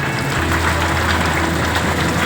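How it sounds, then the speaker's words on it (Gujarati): Heavy rain pours down during a storm, a dense, loud, continuous hiss of drops on surfaces with a low steady rumble underneath. "ભાઈબંધ વરસાદ કેવો આવે"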